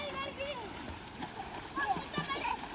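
Children jump and splash into a creek, with scattered water splashes and gurgling stream flow under children's chatter and nearby voices.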